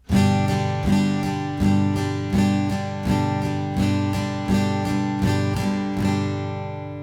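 A guitar strums steady eighth notes in alternating down and up strokes, each bar opening with a strong downstroke and ringing chords played close and clear, with no voice.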